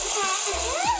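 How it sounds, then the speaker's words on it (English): Cartoonish water spray splashing across flames in the mobile puzzle game Sprinkle, a steady hissing gush with bubbly gurgles and rising blips running the full second, up close and loud. "look at the water and the way the water just sprays around everything"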